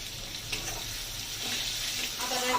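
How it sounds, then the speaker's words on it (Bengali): Ginger fries in a pan for papaya dal, giving a close, continuous sizzling hiss that swells slightly toward the end with no talking. "আদাটা একটু ভাজা হওয়ার অপেক্ষা।"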